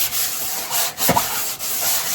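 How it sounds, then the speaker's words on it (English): A sanding block rubs back and forth over a wooden board top in a few close, even strokes, a dry scratchy swish with brief pauses between passes, no talking. "I'm just going to run a sanding block over the top of those."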